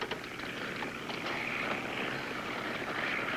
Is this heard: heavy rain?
no